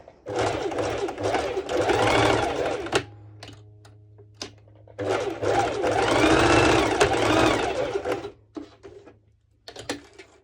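A sewing machine stitches fabric for a sporty top with mesh overlay, running in two long bursts of rapid mechanical whirring with a short gap, then brief stop-start spurts; close and fairly loud, no speech.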